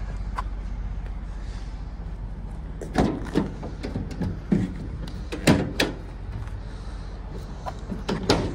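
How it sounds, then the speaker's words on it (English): Rear cargo doors of a 2022 Ford Transit 350 cargo van open, giving a series of close metallic clunks, latch clicks and rattles spaced over several seconds against a low background hum. "Doors open right up."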